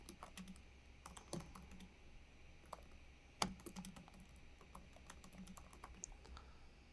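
Someone typing a blog comment on a computer keyboard, quick irregular key clicks close by with one sharper keystroke partway through, quiet and alone.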